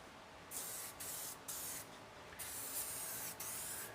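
Upol blend No. 9 solvent sprayed onto the edge of a car's clear coat in several short, close hissing bursts separated by brief pauses, the last burst the longest.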